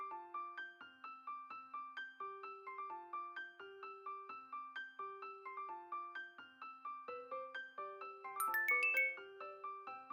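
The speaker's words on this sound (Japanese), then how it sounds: "かおりちゃんからメールだよ" A Sharp RoBoHoN robot phone's email notification chime plays as a steady, bell-like electronic melody of repeating stepped notes. It runs for about ten seconds, turning briefly brighter and louder near the end.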